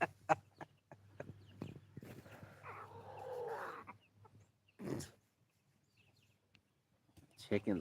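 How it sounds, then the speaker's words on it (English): Backyard chickens clucking and squawking nearby in short uneven bursts, with a longer raspy stretch in the middle and quiet gaps between calls. "Chickens make a lot of different noises."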